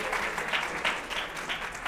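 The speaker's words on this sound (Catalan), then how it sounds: "Aplaudim, si us plau." Applause from a studio audience for a secondary school team on a televised quiz show, a steady dense wash of clapping filling the short stretch with no voices on top.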